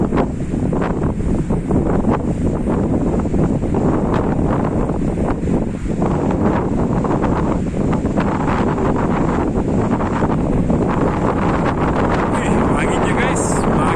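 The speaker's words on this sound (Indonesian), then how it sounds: "Anginnya guys, makin kencang lagi guys." Strong, steady wind buffets the microphone at Sipiso-piso waterfall, a loud, unbroken roaring rush mixed with the distant hiss of falling water, with a voice faintly under it.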